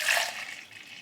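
Water poured from a carton or bottle into a shaker for a vegan protein drink, a brief close splashing pour that fades into a soft trickle.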